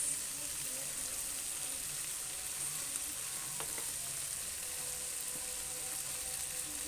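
Boiled eggs go into a pan of cooked vegetables for egg curry, sizzling steadily and close by, with a brief clink and stir partway through.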